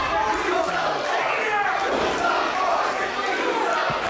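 A crowd at a wrestling show chants in unison, a loud continuous mass of voices filling the hall, with a commentator speaking over it.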